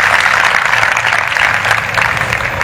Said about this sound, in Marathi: टाळ्या वाजून देवाला धन्यवाद देऊया